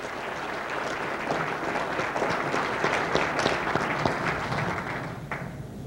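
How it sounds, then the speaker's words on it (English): A school awards audience at Lorain High School applauds the newest Board of Education member, a dense, steady round of clapping filling the room at a constant level, with no voices heard. "Let's give those folks a nice round of applause."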